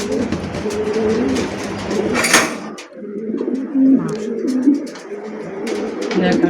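Pigeons kept for sale, including large high-quality birds, coo in low rolling phrases close by, repeated throughout amid faint clatter and shuffling in the loft.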